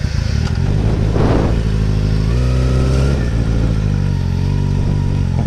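Kawasaki ZX6R sport motorcycle, a 2012 model, revving hard up close, its loud engine note climbing and shifting pitch in steady bursts with no talk over it.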